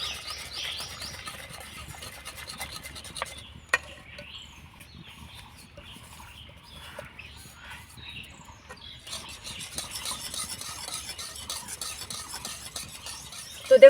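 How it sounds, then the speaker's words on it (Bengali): Crushed Oreo biscuit powder is stirred into warm milk in a bowl, a soft continuous scraping and swishing with light clinks from the spoon, fairly close and quiet, with no talking. "তো দেখুন বিস্কুটের গুঁড়োটা দিয়ে আমি খুব ভালো করে মিশিয়ে নিয়েছি।"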